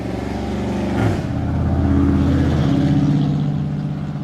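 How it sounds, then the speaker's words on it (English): A car with a loud muffler drives past, a deep rumbling exhaust that swells sharply around the middle as it goes by and then fades off gradually, heard alone without talk. "And fix your muffler! People driving by."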